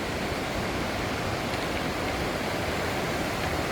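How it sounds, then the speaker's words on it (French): A waterfall on a small stream in the Doubs gives a steady, dense rushing roar, loud and unbroken from start to finish with no voices over it. "Donc là, il y a la cascade qui est là."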